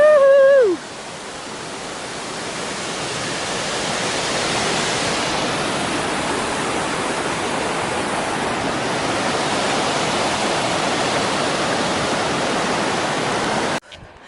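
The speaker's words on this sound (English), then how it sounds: "The river grew pretty quickly. I'm glad there's a bridge now" A swollen river rushes under a bridge along a hiking trail, a loud, steady broadband roar of turbulent water that fills the whole stretch, preceded by a brief whoop.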